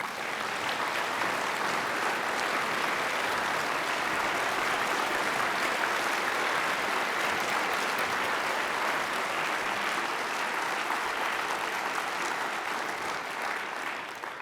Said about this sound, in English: Please give them all a really big round of applause.